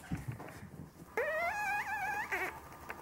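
A dog lets out a drawn-out, high whimpering whine that rises and wavers for about a second, close and fairly loud after a stretch of quieter indoor noise.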